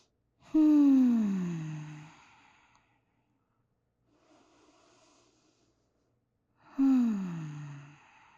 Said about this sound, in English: Take 3 deep breaths with me.